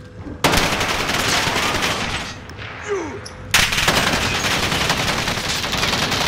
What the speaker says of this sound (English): Dude, they're just fucking shooting.